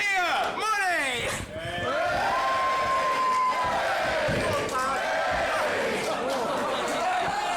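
A wrestling crowd at a tag team match cheers and chants loudly and continuously, with shouting voices rising over a dense roar of the arena audience.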